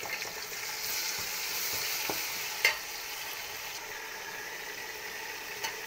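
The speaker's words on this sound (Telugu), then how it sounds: "టమాటాలు మొత్తం వేసేసుకొని వేపుకోవాలండి." Onions and tomatoes frying in a pan for prawn biryani, a steady soft sizzle with occasional light clinks of stirring, close and fairly quiet with no voices.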